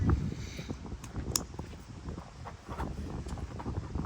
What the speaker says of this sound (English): it's windy, so you can't hear me anyway